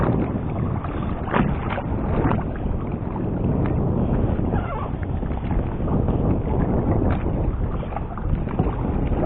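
A big fishing boat motors out at sea on a tuna trip, a steady rumbling drone mixed with wind noise and water slapping against the hull.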